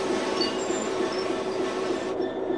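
A Class 66 diesel locomotive moves wagons from a cold start at Hoo Junction on a foggy day, giving a loud, steady rolling rumble with a thin, continuous wheel squeal and no talking.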